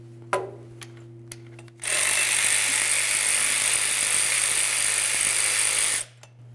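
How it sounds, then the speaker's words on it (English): A power tool drives out a small 10mm bolt on the rear lower engine mount bracket of a 2011-2018 Nissan Altima, giving a steady, close whirring buzz for about four seconds after a few light clicks, over a low hum. "We're going to continue on by removing that small 10mm headed bolt first."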